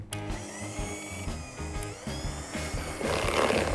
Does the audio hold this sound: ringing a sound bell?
no